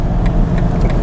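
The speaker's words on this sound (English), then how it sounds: "I really do like how the car sounds." A 2024 BMW i4 eDrive35 electric car is being driven, filling the cabin with a steady, loud low hum and road rumble, with no one speaking.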